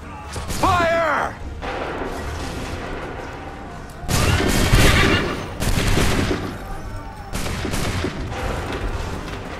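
Musket volleys crash out in the Assassin's Creed III Battle of Lexington as soldiers fire on command: several loud, rolling bursts of massed gunfire, one early, then three more in the second half, with battle noise between.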